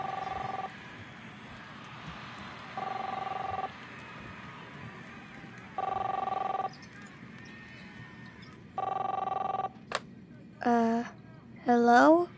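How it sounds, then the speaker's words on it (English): Telephone ringing in the video game Captain Spirit, four evenly spaced electronic rings with pauses between them, followed by short bursts of game voices. "Chris, answer the phone, please."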